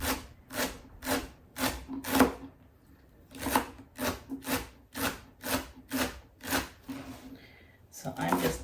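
A knife slices leftover celery on a cutting board into quarter-inch pieces, giving a steady run of crisp, evenly spaced chops close by, with a brief pause midway and no talking.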